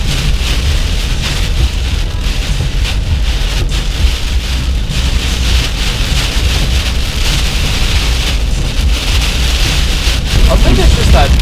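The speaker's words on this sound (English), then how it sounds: "That wind is just blowing that rain across in sheets, isn't it?" Heavy rain driven by strong wind in sheets across a bush valley, a dense continuous roar of downpour and gusts, loud and close throughout with no break.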